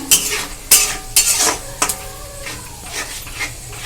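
Sour yogurt is stirred into chana masala in a metal pan, with a series of sharp spoon scrapes and clinks against the pan over a faint sizzle, no voices.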